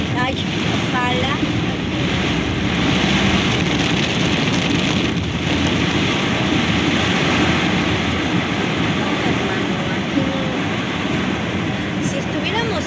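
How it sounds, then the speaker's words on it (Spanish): Rain falling in Mérida, Yucatán, a dense, steady hiss and patter that holds loud throughout, with gusty rumbles and voices talking faintly under it. "aquí va a estar lloviendo un pinche mes seguido"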